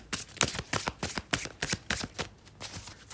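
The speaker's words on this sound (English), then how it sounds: "we'll cut the deck." Riffle shuffling of a tarot card deck, close and crisp, with a rapid series of fluttering card bursts in quick rhythm and no talking.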